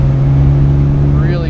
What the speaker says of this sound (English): great exhaust note